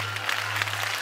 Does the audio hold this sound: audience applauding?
yes